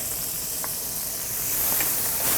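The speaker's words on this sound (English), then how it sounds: "we're going to start by adding 2 tablespoons of butter. And we're also going to drop in all of our crushed garlic." Two tablespoons of butter and crushed garlic sizzling in a hot pan, a steady close hiss that swells slightly toward the end, with no voices.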